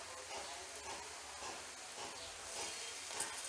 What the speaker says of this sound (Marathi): आता या फोडणीमध्ये आपण वाटण जे तयार करून घेतलं आहे ते टाकून घेऊयात